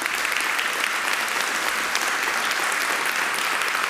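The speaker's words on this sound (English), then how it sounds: "Let's give them an applause." A church congregation applauds the worship band during a service, a steady, dense wall of many hands clapping with no break.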